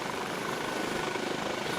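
Eurocopter HH-65 Dolphin Coast Guard search-and-rescue helicopter in Flight Simulator X, a steady loud rotor and turbine drone with fast rhythmic blade chop, heard alone.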